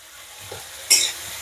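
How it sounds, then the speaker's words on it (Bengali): Ground onion paste fries in hot oil in a pan with a soft, steady sizzle. A brief louder scrape or stir comes near the middle. "পেঁয়াজটা একটু ভাজা ভাজা হোক"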